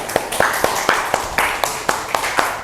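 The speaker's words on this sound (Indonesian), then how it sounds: "Oke, aplaus ya untuk kelompok 2" Audience applause for a group's presentation, heard as a short run of brisk, evenly spaced claps that sound fairly close and end after a few seconds.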